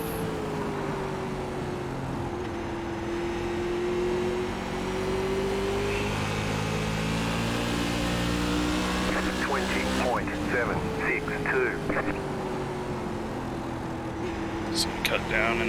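A USAC Silver Crown race car in iRacing at Richmond Raceway accelerates out of a corner, its engine droning and rising steadily in pitch for several seconds, with a commentator's voice over the top.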